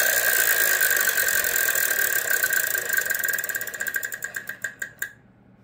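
A Wheel of Fortune game-show wheel spinning, a fast run of clicks over studio noise that spread out and slow into distinct ticks before stopping, fairly loud and with no talk.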